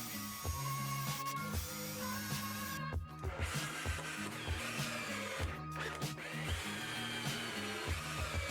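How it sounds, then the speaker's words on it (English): Drill press boring pilot holes in timber for a workbench, a steady motor whine with repeated rising bursts as the bit cuts in, close and fairly quiet, no voices. "I drilled pilot holes with the drill press at each connection points"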